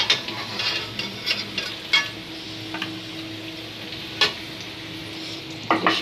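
Fried potatoes sizzle steadily in a frying pan while a utensil stirs and lifts them, giving several sharp scrapes and clinks against the metal, close up and with no talking.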